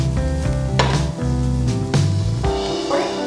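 Sliced onions sizzle steadily in hot oil while frying for a Kerala-style neymeen (seer fish) roast, a continuous close hiss broken by a few scrapes and stirs of a spatula against the pan, with no talking.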